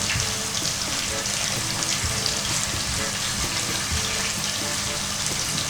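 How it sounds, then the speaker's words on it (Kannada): Onion, capsicum and green chili paste fry loudly in a pan, a dense continuous sizzle with a faint rhythmic scraping of the mix, close-up with no voices. "ಹಸಿ ಮೆಣಸಿನ್ಕಾಯಿ ಪೇಸ್ಟ್ ಹಾಕಿದ ತಕ್ಷಣ ಒಂದು ಸರ್ತಿ ಚೆನ್ನಾಗಿ ಮಿಕ್ಸ್ ಮಾಡ್ಕೊಳ್ಳಿ."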